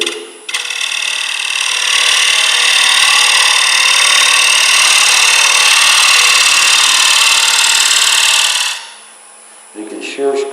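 A scraper tool cuts wood on a lathe, giving a loud, steady, hissing scrape that runs for about eight seconds and then stops abruptly, with brief speech around it.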